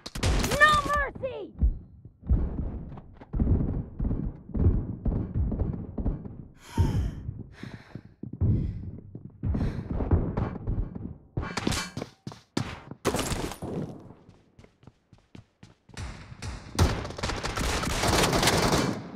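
Gunfire during a squad battle in the mobile game BGMI: repeated close bursts of rapid shots separated by short pauses, with gasps and in-game voice callouts mixed in.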